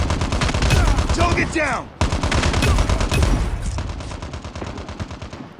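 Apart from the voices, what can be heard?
machine gun fire in the video game COD Mobile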